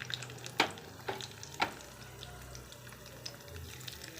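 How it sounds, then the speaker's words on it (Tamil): Chana dal, peanuts and urad dal roasting in hot oil for an ellu thuvaiyal, heard as a soft, steady low sizzle with three sharp clinks of stirring spaced about half a second apart, then quieter scraping. "உளுந்து பருப்பு, இது மூணையும் போட்டு நல்லா வறுபடட்டும்."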